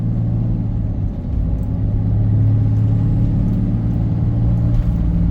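A truck engine drones at steady high revs while stuck in one gear with a failing transmission, a loud continuous low rumble and hum inside the cab with no shifting.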